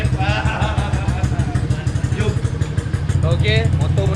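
A motorcycle fitted with a CJ Ipoh race exhaust idles close by in a steady, low, pulsing throb, heard under someone talking.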